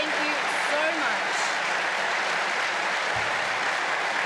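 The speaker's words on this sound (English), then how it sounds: "Can we please give another round of applause to our team?" Sustained audience applause at a PAX livestream for the Civilization VII developer team, a steady dense wash of clapping throughout with faint voices mixed in.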